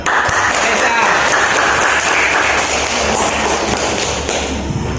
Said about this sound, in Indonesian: Kasih aplaus buat Reza.